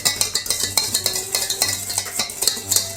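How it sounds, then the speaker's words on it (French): Flour, salt and sugar stirred together in a stand mixer bowl, with rapid repeated scraping and light clinking strokes in a quick, uneven rhythm, close and fairly loud. "Dans la cuve, je vais réunir la farine, le sel, le reste des 100 g de sucre. Je vais mélanger."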